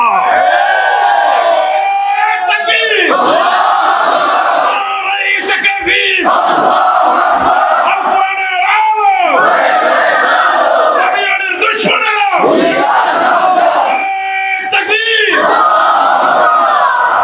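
A large crowd at a religious gathering chanting the Nara-e-Takbir slogan in loud, repeated call-and-response waves of massed voices, steady and powerful throughout with brief gaps between shouts.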